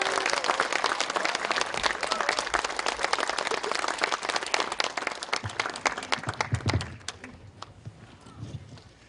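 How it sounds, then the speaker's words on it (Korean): An audience bursts into sustained, dense applause to welcome a speaker at a Saturday lecture, the clapping loud and continuous before thinning into scattered claps over the last few seconds. "박수로 맞아주십시오"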